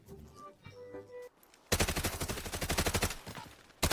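Rapid automatic gunfire from the video game Delta Force, a dense burst of close, loud shots rattling for about two seconds after a quieter stretch of faint game ambience, with one more shot at the very end.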